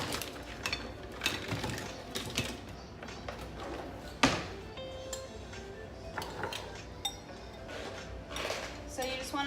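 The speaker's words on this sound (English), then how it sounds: "whisk it up." A whisk stirs dry gluten-free banana muffin ingredients in a bowl, giving repeated light clinks and scraping rattles up close, with a voice talking quietly alongside.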